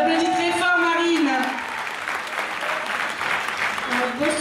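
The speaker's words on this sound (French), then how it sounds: "On applaudit très fort, Marine." Crowd applause at a Miss Ronde Poitou-Charente pageant greets a contestant, following a host's voice; the clapping swells into a dense, fairly loud wash over the second half of the moment.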